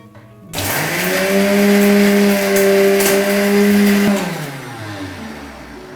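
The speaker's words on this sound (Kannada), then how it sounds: "ಲವಂಗ ಚಕ್ಕೆ ಹಾಕಿದ್ದೀನಿ ಇದನ್ನ ಈಗ ರುಬ್ಕೊಳ್ಳೋಣ" An electric mixer grinder whirs up hard as it grinds whole cloves and cinnamon sticks, producing a loud, steady motor whine for about three and a half seconds before spinning down and fading out.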